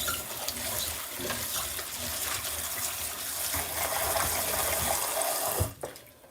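Tap water gushes steadily into a kitchen sink while food is rinsed for a lamb chop and Ghana yam meal, running loud and continuous for most of the clip before cutting off near the end.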